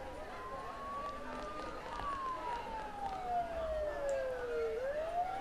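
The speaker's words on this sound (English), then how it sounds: "Don't those sirens sound really close?" Police sirens in the video game Persona 4, a single wailing tone that rises and falls in long slow sweeps, fairly faint and distant, under soft background ambience and music.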